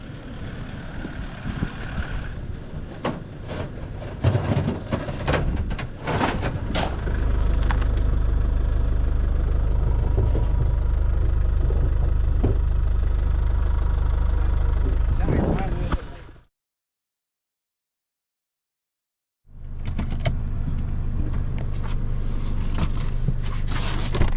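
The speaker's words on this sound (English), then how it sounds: "we'll just get him to put it in reverse and just let him idle" A bogged vehicle stuck in outback terrain idles in reverse, a steady loud low engine drone running for long stretches, cutting out briefly to silence and then resuming, with people talking over it early on.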